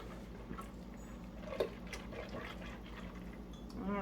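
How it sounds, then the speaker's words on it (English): Water trickles and splashes softly as it is poured into a thin gravy mixture. The sound is faint and steady, with a few small drips and clinks. "Adding our 1 3/4 cups of water"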